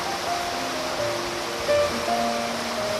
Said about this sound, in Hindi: देखिए एक नदी है इस साइड से आ रही है